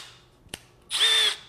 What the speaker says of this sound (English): now we could chuck this in the drill and go in another inch